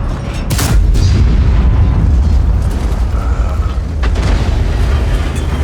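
A T95 tank's heavy gun fires in a tank battle video game, a loud booming blast near the start followed by rumbling battle noise and a second softer report later.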